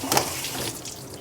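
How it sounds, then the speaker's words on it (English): Tap water runs over leafy salad greens being rinsed in a kitchen sink, a brief close splashing burst at the start that settles into a steady, moderate flow. "We're just going to give it a few rinses and then dry it off."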